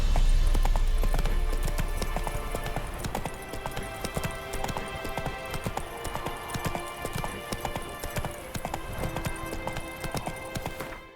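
Roach, Geralt's horse in The Witcher 3, clip-clops along in a steady, fairly close trot, the hoofbeats continuous and moderately loud over a low ambient bed, with a brief whinny-like sound.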